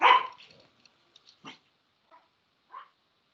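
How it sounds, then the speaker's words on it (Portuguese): A pet dog barks at home, one loud bark up front followed by a few short, scattered yips and woofs that fade to quieter, spaced-out bursts. "Meu cachorro, peraí."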